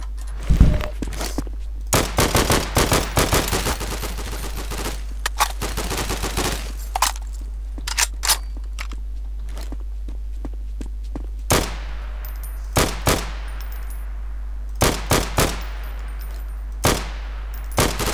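Gunfire in a WW2 team deathmatch in Garry's Mod, with bursts of rapid automatic fire and single shots crackling through the first half, then sparser isolated shots spaced apart, all fairly loud and with no talking.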